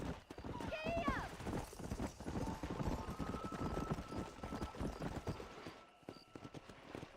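Horse hooves gallop in the Red Dead Redemption video game, a fast, steady clip-clop with an occasional whinny, while voices talk over the ride.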